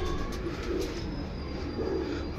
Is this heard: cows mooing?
no